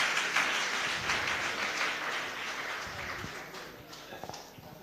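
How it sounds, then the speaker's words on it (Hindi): An audience at a Jain religious gathering in Nasirabad claps steadily, a dense crowd applause that gradually thins and tapers off, with a few scattered claps near the end. "ताली तो कम से कम आपकी बजती रहना चाहिए"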